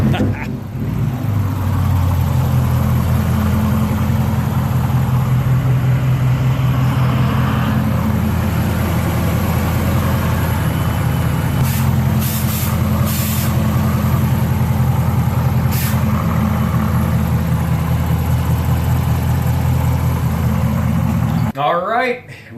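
A 2018 Chevrolet Camaro ZL1 engine idles steadily after an oil flush, a deep, constant rumble held close and loud with little variation until it cuts off near the end.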